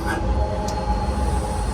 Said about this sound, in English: Let's hear the sound of the steam train stopping and go!